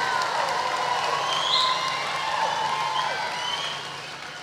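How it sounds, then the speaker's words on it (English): Nearly six hundred people at a graduation ceremony clap and cheer in a big hall, a broad sustained roar of hands with whoops rising over it. It holds strong, then eases slightly near the end. "there's nearly 600 people who are applauding. Let me hear more noise."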